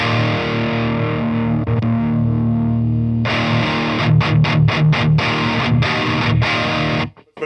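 Heavily distorted metal guitar through a KSR amp, first a sustained chord ringing, then tight palm-muted chugs in a quick stop-start rhythm, loud and close, cutting to silence at the end.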